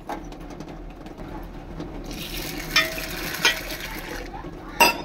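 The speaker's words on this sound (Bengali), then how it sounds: "ভালো করে কচলে কচলে দুবার ধুয়ে নিতে হবে, 2-3 বার।" Matar dal lentils being washed by hand, kneaded and rubbed in water for a shukto dal: close, continuous wet swishing and grainy rustling with a few sharper clicks of a vessel, no voices.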